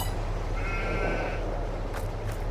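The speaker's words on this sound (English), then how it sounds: "Yeah, we got 250 sheep now." Sheep bleat in Farming Simulator 22 on a farm with a large flock of 250, one clear bleat near the middle over a low steady hum, followed by a couple of faint short noises.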